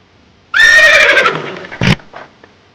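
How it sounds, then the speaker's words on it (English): A horse's loud neigh, a high, wavering whinny lasting over a second and tapering off, then a short snort-like burst and faint trailing breaths, with no talking. "Horse."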